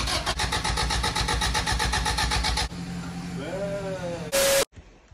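An LS-swapped VTEC Honda Civic engine runs loud and close with a steady pulsing rumble for a few seconds, then drops away as voices talk over a quieter idle.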